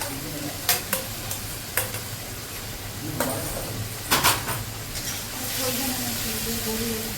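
Garlic paste and tomato paste are stirred in a hot pan, with a steady low sizzle under a few sharp scrapes and knocks of the spoon, close and fairly quiet, and a voice speaking faintly in the background.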